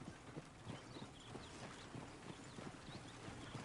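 Horse hooves clip-clop in a steady walking rhythm in the Red Dead Redemption video game, faint and even, with soft ambient chirps behind.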